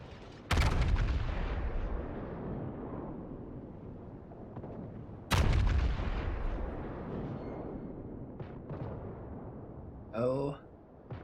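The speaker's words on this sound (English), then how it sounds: "He wanted to fire all of his guns towards that Izumo." Yamato battleship main guns fire in World of Warships, two huge booming salvos several seconds apart, each rolling off into a long rumble, with a short warbling game sound near the end.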